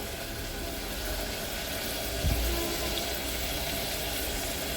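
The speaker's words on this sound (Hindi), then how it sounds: "अदरक लहसुन के साथ हम इसको भून लेंगे कीमे को" Minced meat frying with ginger and garlic in a pan, a steady hiss of sizzling that runs throughout at an even level, with one brief low knock partway through.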